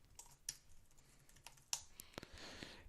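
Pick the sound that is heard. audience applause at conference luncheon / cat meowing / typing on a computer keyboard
typing on a computer keyboard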